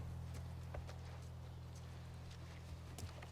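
A horse's hooves clip-clop in The Last of Us Part 1, with a faint, steady, unhurried beat of hoof strikes over a constant low hum and background hiss.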